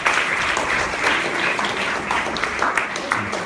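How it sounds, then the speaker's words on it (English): Audience at a project closing ceremony applauding, a steady wash of many hands clapping at moderate loudness throughout. "Another round of applause to Dr."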